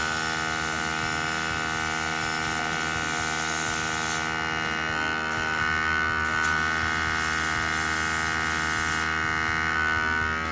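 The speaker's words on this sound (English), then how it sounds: "Little compressor there, it's rattling away." A small airbrush compressor rattles and hums steadily nearby, a continuous buzzing drone with dense tonal harmonics that holds without pause.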